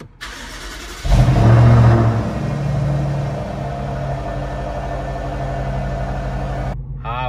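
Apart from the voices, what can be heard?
tuned BMW X5 M Sport engine revving with aftermarket exhaust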